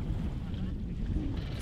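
A boat speeding across the middle of a lake at around 60 km/h, a close rumbling rush of wind buffeting and water noise, steady for a short burst.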